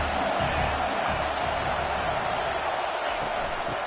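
A stadium crowd at a football game keeps up a loud, steady roar with bursts of cheering, and a commentator's voice can be heard over it.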